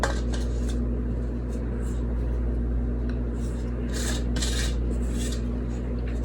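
Cupcake batter is scraped from a bowl into the pan: short, close rubbing and scraping strokes cluster toward the end over a steady low kitchen hum, with no voices.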